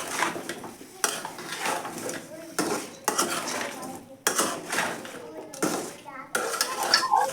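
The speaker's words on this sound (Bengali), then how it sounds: "এখন আমি উল্টিয়ে পাল্টিয়ে ভালো করে মশলার সাথে মিশিয়ে নিচ্ছি" Vegetables with spices being turned and mixed in a metal pot, with bursts of spoon scraping and clanking against the pot coming in uneven strokes about once a second, close and fairly loud.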